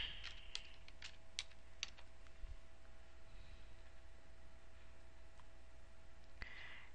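Scattered keystrokes on a computer keyboard as a search term is typed, a few quick clicks bunched near the start and one more later, faint against a quiet hiss with no talk.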